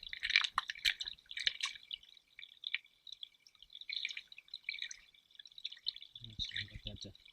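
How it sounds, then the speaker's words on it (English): A small stream trickles and drips over stones nearby, a steady crackling wash of running water, with a brief low voice near the end. "Get that to settle down with the running water."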